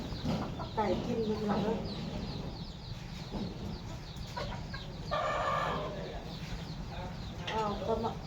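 Chickens cluck and squawk close by in a busy household yard, with a few louder bursts of calls, while people talk over the birds.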